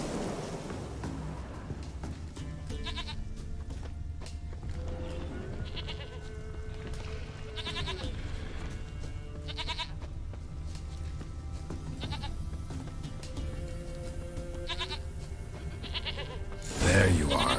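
Goat bleats from The Witcher 3, a few short nasal calls scattered over a steady bed of rain and ambient game noise, moderately near, with brief talk in between.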